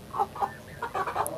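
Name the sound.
sick chicken with rattling snoring breath (CRD)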